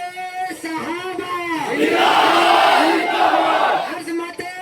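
A crowd at a Muslim protest rally in Parbhani roars a chanted slogan response in unison, a loud sustained group shout between a leader's voice calling out the lines before and after.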